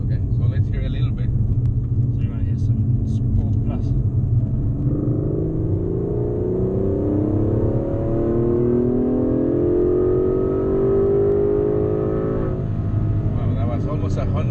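A 2017 Aston Martin DB11 accelerates hard from the driver's seat. The engine roar climbs steadily in pitch as speed builds, loud and close inside the cabin, then eases off near the end, with a voice briefly at the start and finish.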